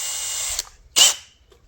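A handheld power drill gives two short high whirring bursts, the first trailing off and the second briefer and sharper, loud and close with nothing else heard.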